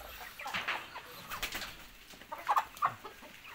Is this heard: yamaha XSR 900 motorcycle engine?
no